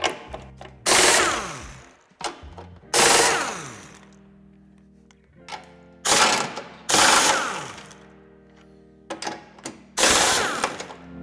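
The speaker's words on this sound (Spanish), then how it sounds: "Para desmontarlo tendremos que quitar las 4 tuercas que son de llave de vaso de 12." A socket ratchet with a 12 mm socket removing nuts while fitting a tow hitch to a 2013-2021 Suzuki SX4 S-Cross: several close bursts of fast mechanical clicking separated by pauses, loud and up close.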